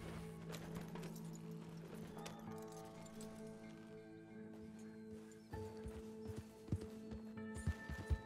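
Horse hooves clip-clop in a steady rhythm in the Red Dead Redemption 2 video game. Ambient game sounds sit underneath, and the hooves are faint and mid-distance with a few louder knocks toward the end.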